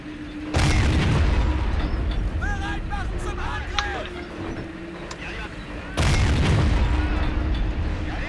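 Tank cannons fire in a tank video game, with two heavy, rumbling booms spaced several seconds apart over continuous battle noise and faint chirping effects in between.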